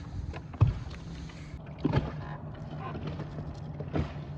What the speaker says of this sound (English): let me get the boat turned around here.